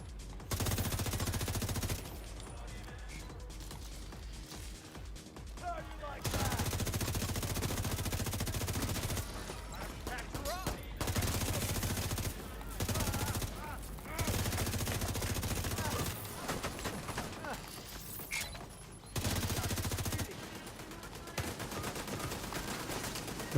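Repeated bursts of automatic turret fire in The Division 2, loud rattling volleys broken by short pauses, with someone talking over some stretches.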